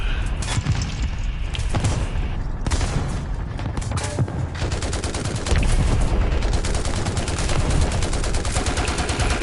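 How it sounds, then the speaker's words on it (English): Sustained gunfire and repeated shell impacts pound a player's tank in War Thunder, a dense, loud barrage of shots, booms and metallic hits running the whole time without a break. "Stop bloody shooting me."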